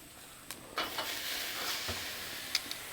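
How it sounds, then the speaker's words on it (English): Meat frying in a pan, a low steady sizzle with sharp clicks and scraping bursts as pieces are turned and rotated, close and moderately quiet, with no voices. "look at that sizzle already."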